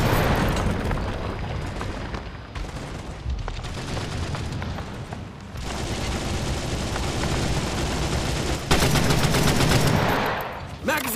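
Gunfire in the WW2 first-person shooter game World War Heroes on Android: rapid machine-gun bursts and rifle shots with booming blasts, loud and nearly continuous, with brief lulls between volleys.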